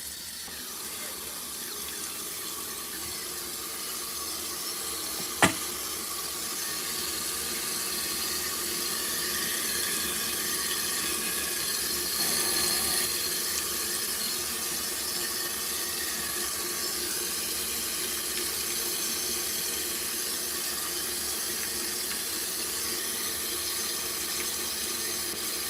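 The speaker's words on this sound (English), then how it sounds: "I am getting soaked by that water fill right now" Steady rush of water filling the drum of an LG ThinQ MEGA Ultimate washing machine, a continuous even hiss throughout, with one sharp brief knock near the start.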